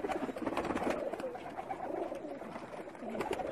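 Pakistani high flyer pigeons coo softly in a loose, overlapping flock. The calls are faint and continuous over a busy outdoor background.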